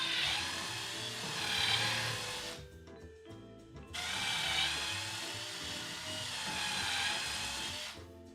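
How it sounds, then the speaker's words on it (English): A power drill bores angled holes into a wooden shelf rail, giving two sustained high whining runs of about three and four seconds with a short quiet gap between them. The sound is close and steady, with no talk. "for these rail drill holes, I'm going to be doing a slight angle towards the outside"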